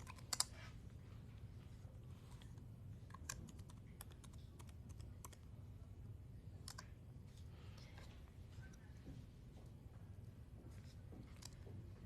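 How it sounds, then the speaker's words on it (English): Quiet, rapid keystrokes on a computer keyboard come in irregular bursts of clicks, close and soft, with no talk. "so let's just go ahead and type yes."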